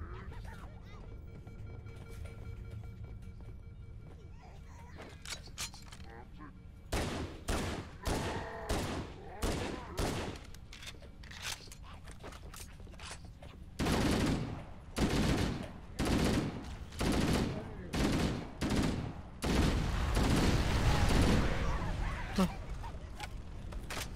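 Gunfire in Halo: Combat Evolved rattles in clustered bursts of rapid shots, loud and close, separated by short pauses, building into a denser stretch of shooting near the end amid game ambience.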